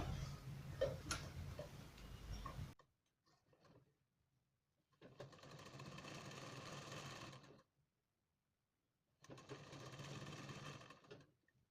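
Domestic sewing machine stitching along the neckline of a designer blouse, running in three separate bursts of steady rapid stitching with short pauses between them, close and clear.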